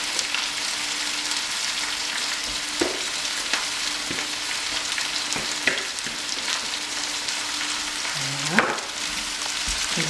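Carrots frying in a pan alongside venison steak, a steady close sizzle with scattered crackles and a few light clinks of tongs turning the pieces, no talking.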